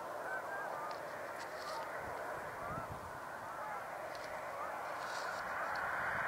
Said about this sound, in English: it's apparently drawn the attention of these sandhill cranes